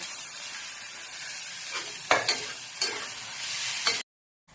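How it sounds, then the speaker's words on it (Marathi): Chopped tomato hits hot tempering oil, giving a close, steady sizzle broken by several sharp spatula scrapes and stirring knocks. It ends abruptly in silence. "मी एक टोमॅटो चिरून घेतलेला आहे, तो पण आपण फोडणीमध्ये टाकून घेऊया"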